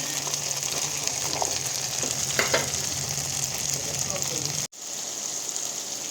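Chopped onion pieces fry in a pan with a steady, dense sizzle throughout, loud and close, with a brief drop near the end before the crackle resumes; no one speaks.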